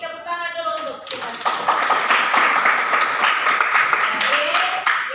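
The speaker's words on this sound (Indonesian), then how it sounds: "jadi tepuk tangan dulu untuk kita" A vocational high-school class in Indonesia breaks into loud, close clapping after a teacher's brief spoken prompt at the start. Quick overlapping claps then run steadily for several seconds, and a voice returns briefly near the end.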